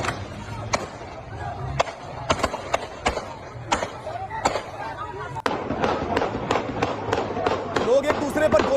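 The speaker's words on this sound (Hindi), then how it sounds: "देखिए किस तरीके से फायरिंग हो रही है।" Gunfire rings out during street clashes and protests against the army, sounding as sharp, irregular cracks and bangs, some close and loud, others further off, over a continuous background rumble of crowd and street noise.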